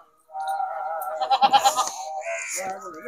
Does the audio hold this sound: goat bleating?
yes